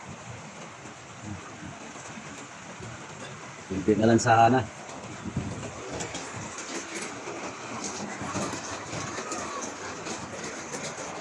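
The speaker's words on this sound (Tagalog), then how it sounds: "Umuulan kasi guys." Steady rain falls outside a building under construction, a soft continuous hiss throughout. A person speaks briefly near the middle, with a short louder clatter.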